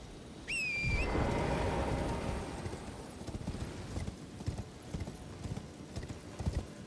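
Horse hooves thud in a rapid clip-clop under a brief whistle-like call, close and fairly loud at first, then easing into a softer, irregular trot in Elden Ring's open world.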